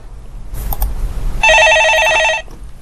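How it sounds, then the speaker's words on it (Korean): A telephone in a phone-in stock consultation studio rings with one loud, close burst of rapid electronic trilling lasting about a second, over a low background hum with no talking. "전화 받았습니다"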